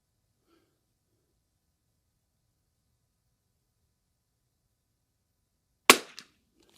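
A single rifle shot from a CZ 455 trainer with a Yo Dave trigger cracks out at a 100-yard outdoor shooting range, sharp and loud near the end after several seconds of near silence, with a brief echo trailing off.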